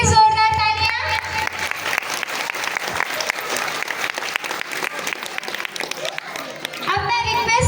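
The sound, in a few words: audience applause at annual day celebration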